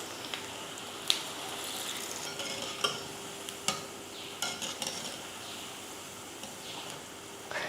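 Vada batter dropped into hot oil sizzles with a steady, moderate crackle, while a spoon or ladle clinks and scrapes against the pan in occasional sharp taps.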